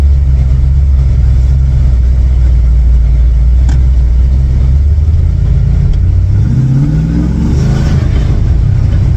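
A Land Rover Defender 110 with a swapped LS3 V8 drones steadily at close range, then revs up near the end as it pulls away, loud and unbroken.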